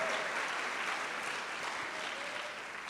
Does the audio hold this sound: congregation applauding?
yes